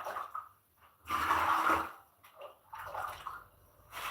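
Ladles of water are poured into a mixing solution in two short sloshing bursts with a brief quiet gap between them, close by and moderately loud.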